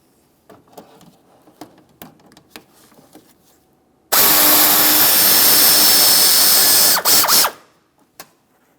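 A ratchet with a 7mm socket works the fog light bolts on a 2017-2024 GMC Acadia: a few faint clicks and taps, then a loud, continuous mechanical whirring burst lasting about three seconds that cuts off abruptly.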